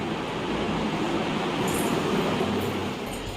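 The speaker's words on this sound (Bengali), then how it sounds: "এই যে এখন আমরা ট্রেনে বসে পড়েছি রানাঘাটের ট্রেনে" A moving local train bound for Ranaghat rumbles from inside the carriage, a steady loud roar of wheels and rails with faint metallic squeaks, continuous and without talking.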